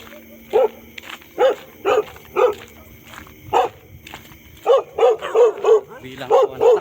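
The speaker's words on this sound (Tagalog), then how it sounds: "Ayan, aso guys." A dog barks at night, sharp repeated barks, a few spaced apart then a quicker run of them, fairly close over a faint background hum.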